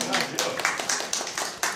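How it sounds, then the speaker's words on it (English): A small gathering claps after a demonstration at a 161-foot-deep well, giving brief, sparse, irregular claps under a nearby talking voice. "But, very good work from Jill, I think a round of applause."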